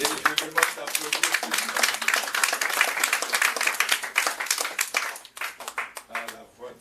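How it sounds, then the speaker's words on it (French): Audience at a poetry evening breaks into dense, steady applause that carries on for several seconds and thins toward the end, with voices mixed in. "je demande d'applaudir"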